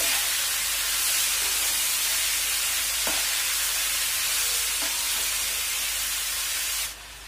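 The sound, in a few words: stirring cabbage and chana dal into hot pan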